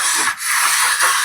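Vintage hand plane shaving a wooden board, a steady close rasping hiss with a brief dip midway before resuming.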